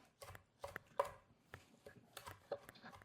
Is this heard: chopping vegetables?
yes